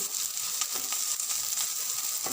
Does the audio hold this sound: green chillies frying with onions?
yes